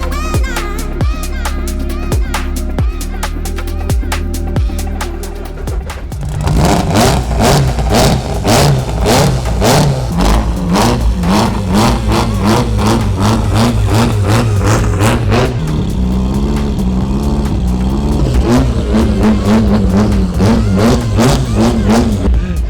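A rare Volvo car engine revved hard and loud nearby, repeated rising and falling blips over a rough, throbbing idle, with people talking alongside.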